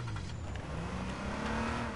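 A car driving in H1Z1, its engine a steady moderate drone with a slowly rising whine, heard from a short distance and continuous for the whole moment.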